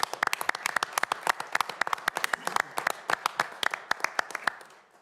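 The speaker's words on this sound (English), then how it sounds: "Let's give them a round of applause, guys." A small council meeting audience gives a round of applause, a sparse cluster of distinct, fairly close claps in quick irregular rhythm that thins out and fades at the end.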